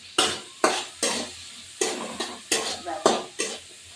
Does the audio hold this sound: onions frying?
yes